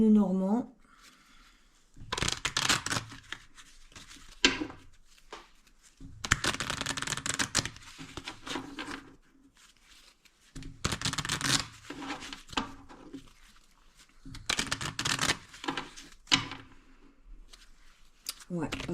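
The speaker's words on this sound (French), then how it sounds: "je vais venir mélanger le Lenormand" Lenormand oracle cards are shuffled by hand in repeated rustling bursts of a couple of seconds each, separated by quiet gaps, close and clear.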